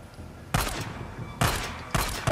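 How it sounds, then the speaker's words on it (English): Three loud, close pistol shots ring out in the Days Gone video game, spaced unevenly about a second apart, each with a short booming tail. "I'm gonna use the pistol."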